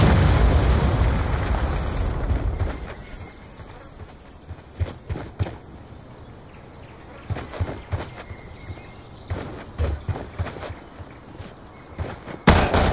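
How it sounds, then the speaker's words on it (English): A big rumbling blast opens this Black Ops 2 capture-the-flag match, then sharp explosive bursts and pops scatter through the rest, some close and loud, others duller, with little talk. "Hellstorm missile inbound."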